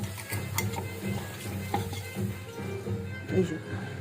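Onion and mushroom masala fries in a pan and is stirred, with a light sizzle under repeated scraping clinks of the spoon against metal, spaced irregularly and close up.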